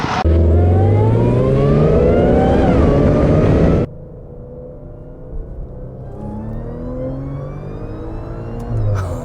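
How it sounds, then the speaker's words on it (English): Supercharged Audi S4 B8.5 V6 with a six-speed manual, roughly 400 AWHP, accelerating hard with a loud rising supercharger whine over the exhaust note, then a quieter stretch as the revs build again. "It is about that supercharger whine."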